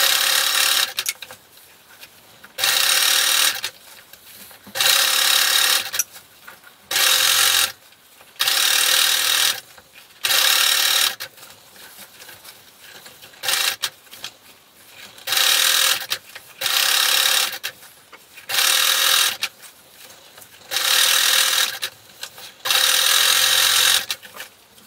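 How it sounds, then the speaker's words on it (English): A sewing machine stitches elastic into swim trunks in repeated short bursts of rapid mechanical whirring, each running a second or two, separated by brief pauses, close and clear with no talk. "I'm going to sew from the front, and make sure that you stretch as you sew so that you keep the stretch of the elastic"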